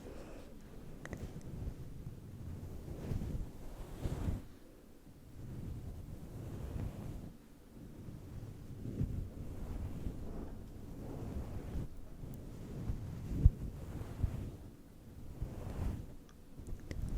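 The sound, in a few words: wind picking up before a storm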